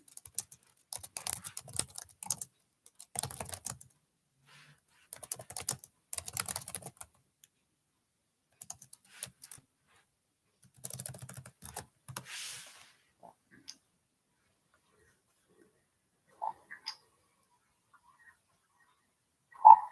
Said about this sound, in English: I'm going to type something in here myself.